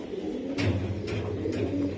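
Top-quality pigeons coo in a low, repeated throaty rhythm, close by and fairly quiet, with a few soft pulses over about two seconds.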